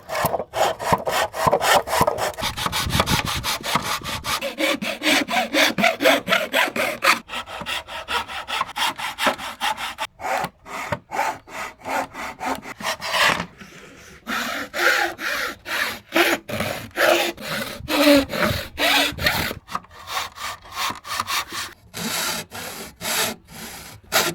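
Wood trim being hand-sawn to a 45-degree angle for corner joints, with steady rhythmic back-and-forth strokes close by, pausing briefly between bursts of cutting.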